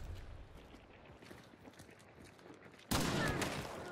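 Gunfire in the game Hunt, with scattered faint shots and footsteps over low background noise, then a sudden loud broadband burst of firing near the end.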